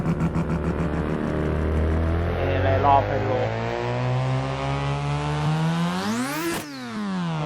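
Tuned single-turbo golf cart engine, loud and close, idling roughly then revving up through a long rising climb to a sharp peak before dropping back, with a voice speaking briefly over it.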